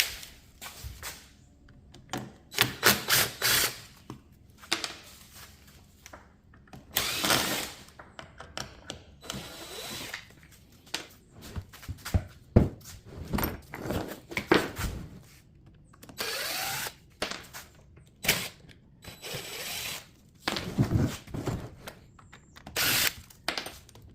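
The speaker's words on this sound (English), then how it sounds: "I'm going to go ahead and pop these screws out and see what we got." Power drill backing screws out of a melamine fiberglass mold, short repeated whirring bursts with pauses and handling clatter between them, close and fairly loud.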